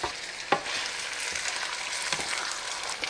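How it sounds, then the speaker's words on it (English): Rice sizzling and frying over high heat in a pan for chicken congee, a steady dense crackle with a few stirring scrapes, close and continuous, no voices. "You can fry them on high heat until it become crispy."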